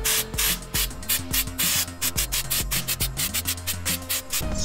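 Rust-Oleum LeakSeal flexible rubber coating sprays from an aerosol can onto the window gasket of an Audi Q7, a series of short, hissing bursts in quick succession with brief pauses between them.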